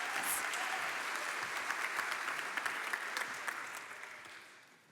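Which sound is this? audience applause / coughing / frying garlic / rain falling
audience applause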